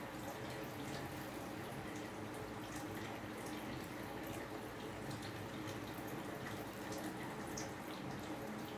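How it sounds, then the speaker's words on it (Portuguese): Filtered water being poured into a jar while preserving queiroba, a continuous close splashing gurgle of liquid at low level, steady for several seconds with no talk. "Aí eu vou colocar água filtrada."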